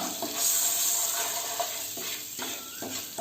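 Boiled eggs frying in a spicy masala in a pan, with a steady close sizzle and repeated scraping strokes of a spoon stirring and tossing them.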